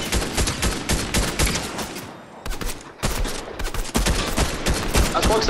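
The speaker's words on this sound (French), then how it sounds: "On nous tire dessus là!" Rapid bursts of gunfire in the video game Fortnite, loud and repeated in clustered volleys with a short lull midway, then resuming heavily; players talk over the shooting.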